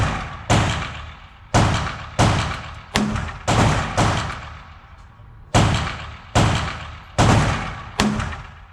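Kimber K6xs .38 Special revolver firing wadcutters outdoors, about ten sharp loud reports at a steady, unhurried pace, each shot trailing off in a brief echo.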